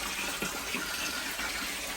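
Water gushing in at good pressure to fill a grow-on koi pond, a steady, dense rushing and splashing that stays constant and close throughout.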